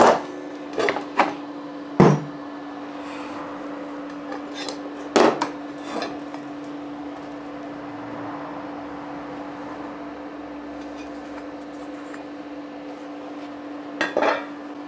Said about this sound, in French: Donc après le pointage, évidemment, j'enlève la calamine. Qu'est-ce que je dis, le laitier.